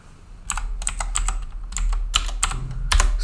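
Typing on a computer keyboard while writing HTML and JavaScript code for a dice game, with bursts of quick clicky keystrokes separated by short pauses, close and clear over a low steady hum, with no talking.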